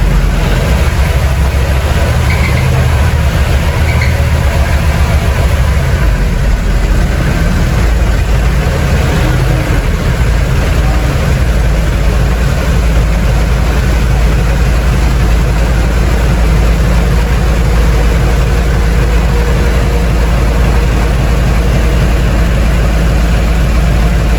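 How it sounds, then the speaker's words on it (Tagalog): A Filipino-style fishing boat engine runs steadily and loudly throughout, a constant low rumble with rattling texture and no break or talk. "Narinig naman ninyo yung makina"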